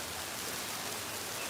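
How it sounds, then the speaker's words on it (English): Hard rain pours down in a dense, steady hiss that holds without a break, with no voices over it. "And so we're getting this hard rain right now."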